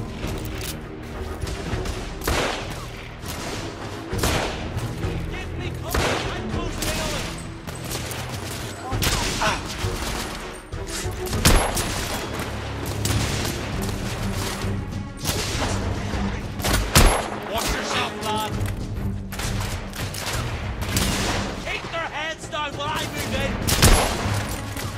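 Gunfire in The Order: 1886, dense, loud bursts of repeated shots and blasts, including a shotgun among other weapons, continuing across the stretch with shouted voices mixed in.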